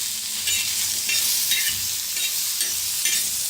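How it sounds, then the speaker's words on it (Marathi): Onion roasts on an iron tawa with a constant close sizzle, broken by several rhythmic scraping stirs of a spatula against the metal, with no voices. "आता त्याच्यातच कांदा बी भाजून घेऊया तव्यातच। लोखंडी तव्यातच भाजायचं"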